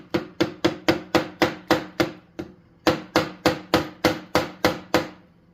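A Honda CT70 fork with a nut fitted on top is struck with a hammer during a fork service: about seventeen sharp metallic blows in a steady rhythm, with a short pause midway, close and loud, no talk.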